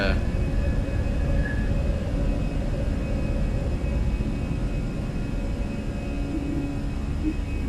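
Fenix A320 airliner climbing after takeoff in Microsoft Flight Simulator, with a steady, loud broadband engine roar and rumble that holds evenly throughout without a break.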